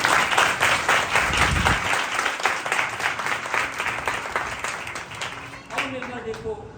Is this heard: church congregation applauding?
yes